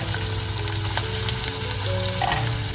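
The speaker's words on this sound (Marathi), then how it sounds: "त्याच्यामध्ये आता ना आपण कांदा घालून घेतोय आणि फोडणी द्यायला सुरुवात करतोय" Onions sizzle loudly in hot oil, a dense steady crackle close by, with faint low hum underneath and no speech.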